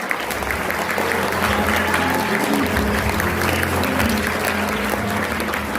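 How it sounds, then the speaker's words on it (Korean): Strong, sustained audience applause welcoming guests at an Asian cultural exchange evening, a continuous loud wash of many hands clapping over a low steady hum of the hall. "우리 한번 크고 힘찬 박수로 이웃을 환영합니다"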